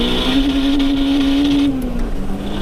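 A 464 bhp turbocharged Honda DC5 racing a 515 bhp Audi RS3, heard as a loud, sustained engine drone from inside the car that holds steady, then eases off briefly.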